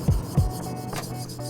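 Wet sanding of freshly applied base-coat paint on an electric guitar body with 600-grit sandpaper, a few short rasping strokes up close followed by quieter continuous rubbing.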